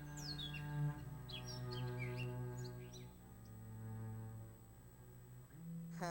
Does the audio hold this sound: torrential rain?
no